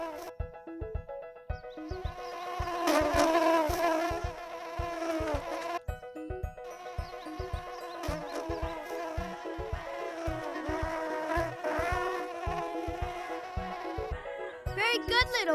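A cartoon bee buzzes while flying, a tonal, wavering drone that bends up and down over a bouncy rhythmic music backing, fairly loud and continuous throughout.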